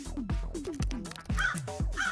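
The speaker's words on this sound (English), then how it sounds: "Crows are pretty good at recognizing people's faces" A crow caws several times in quick succession, loud and close, with harsh, rasping calls in a rough rhythm and no talking.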